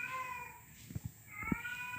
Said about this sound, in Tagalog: narinig na naman ang pusa.